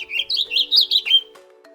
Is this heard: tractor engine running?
no